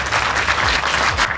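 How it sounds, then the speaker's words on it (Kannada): An audience claps loudly together for their guru, a dense, close burst of applause with no talk over it. "ಒಂದು ದೊಡ್ಡ ಚಪ್ಪಾಳೆ ಗುರುಗಳಿಗೆ."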